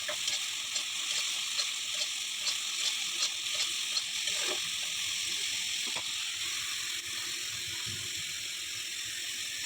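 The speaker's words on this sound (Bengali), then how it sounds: "জল দিয়ে মশলাটা ভালো করে কষাবো" A spice paste cooking down in a pan with a splash of water, a low steady bubbling sizzle with light intermittent scraping and tapping of a spoon, fairly quiet and even throughout.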